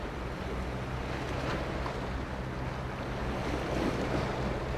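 Steady ocean waves wash against the shore of a bay, a continuous broadband surf roar with faint wind noise, loud and even throughout with no voices.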